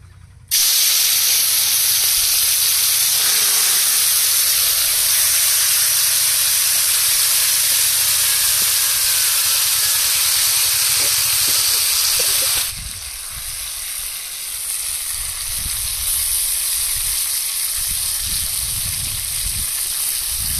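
Marinated lote fish fries in mustard oil in a wok with a loud, steady sizzle and hiss. The sound drops and grows rougher partway through, then carries on alone.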